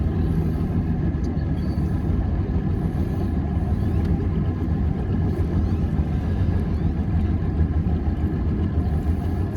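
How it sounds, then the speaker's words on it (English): A fishing boat's motor runs on Lake Calaveras with a constant, low droning rumble, steady and fairly loud, with no breaks. "we are afloat with a running motor."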